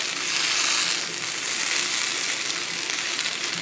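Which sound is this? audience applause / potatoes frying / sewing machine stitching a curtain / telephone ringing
potatoes frying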